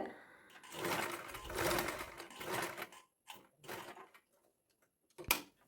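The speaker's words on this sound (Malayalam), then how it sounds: "നമ്മൾ ലൈനിങ് പീസിലാണ് ഇങ്ങനെ സ്റ്റിച്ച് ചെയ്യുന്നത് മുഴുവനായിട്ട് ഒന്ന് സ്റ്റിച്ച് ചെയ്ത് കൊടുക്കുക" A sewing machine stitching a lining piece, several close bursts of rapid mechanical whirring separated by short pauses, then a sharp click near the end, with no talking.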